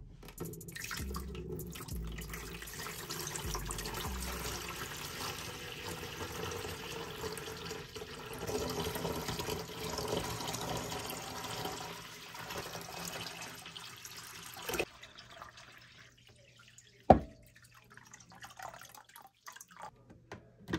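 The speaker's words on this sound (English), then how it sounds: "So I have my water ready and I'm gonna fill up this pool." Water pouring from a container to fill a toy pool, a steady splashing trickle for about fifteen seconds that stops abruptly, followed by a few faint drips and a knock.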